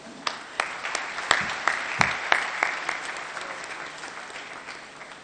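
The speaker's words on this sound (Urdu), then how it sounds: "آپ سب کی بھرپور تالیوں میں." Applause from an audience in the Behria Auditorium in Karachi, with sharp separate claps that thin out into scattered clapping over a few seconds.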